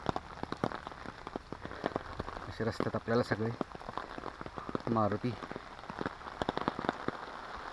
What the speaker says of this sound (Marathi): प्रचंड पाऊस पडतो.